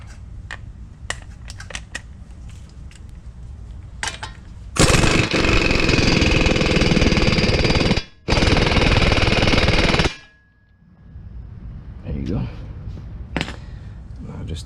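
A pneumatic impact tool hammers loudly on the 36 millimeter wheel bearing nut of a 2006 Ford F150, firing in two long bursts with a short pause, preceded and followed by lighter clanks and someone talking.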